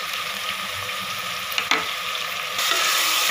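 Vegetables for a veg biryani fry in a pressure cooker with a continuous close hissing sizzle, broken by a couple of brief stirring knocks and swelling slightly louder near the end.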